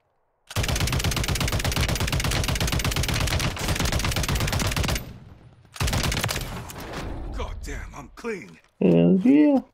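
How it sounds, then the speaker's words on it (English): Rapid video game gunfire aimed at the player, long loud bursts of automatic shots in tight rhythm, a pause, then more bursts, with a voice talking near the end. "Someone's shooting me."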